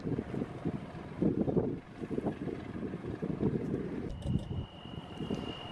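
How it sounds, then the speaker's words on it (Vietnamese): A wooden sea fishing boat off Phu Quy island accelerates out to sea, its engine a low rumbling drone mixed with gusty wind buffeting the microphone, with no voices heard. "Thêm một chiếc ghe biển nữa cũng đang có tăng tốc tiến vào biển mặt sau này"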